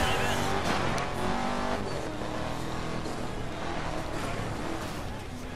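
A racing car in Need For Speed Most Wanted, driven on bare rims without tyres, roars steadily at high revs with engine whine and grinding throughout, loud and continuous with no talk.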